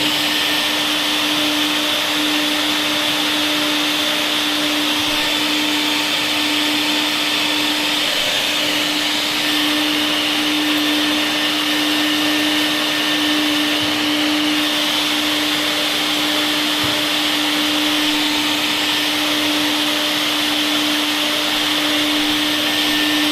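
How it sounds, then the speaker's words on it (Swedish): A vacuum cleaner on a farm at harvest time running steadily with a loud, constant motor whine and airy roar, unchanging for over twenty seconds with no talking. "Dammsugaren kan bli här på putken så den är färdig sen när man far vidare"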